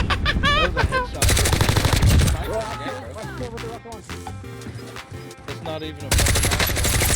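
Rapid gunfire from the Warzone video game crackles in bursts, mixed under a busy in-game soundscape with music and a person talking.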